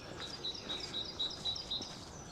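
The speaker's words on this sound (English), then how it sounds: "the sound of the birds is beautiful." Small birds sing in an English village by the churches, repeating a bright, high chirping phrase in a regular run of short notes over soft outdoor background, with no voices.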